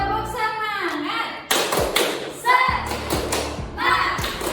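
A group doing a rhythmic spirit clap in a classroom setting, with sharp, uneven hand claps and taps mixed with chanting voices and children's shouts, fairly close and lively.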